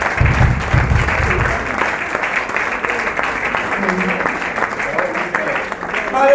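A crowd at a French-speaking church event applauds the singer with continuous dense clapping, near and loud throughout, while voices carry over it.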